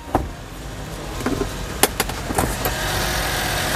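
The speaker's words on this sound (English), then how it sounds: "Yung ating makina is K6A engine timing chain, 3-cylinder inline, tapos EFI na po siya." Suzuki Every van with a K6A three-cylinder inline engine with timing chain and EFI, running at a steady idle nearby, with a few sharp clicks and knocks over the engine hum.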